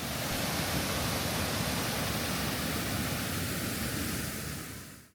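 A rainforest waterfall in Belize pours in a steady, dense rushing roar, loud and unbroken, fading out at the very end with no voices.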